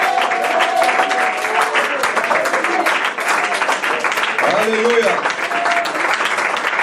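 Congregation at a worship service clapping and cheering for Jesus, loud continuous applause with voices raised over it and a shout cutting through.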